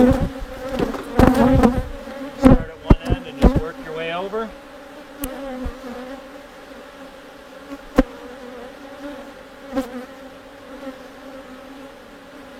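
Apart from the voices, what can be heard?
bees buzzing around a beehive super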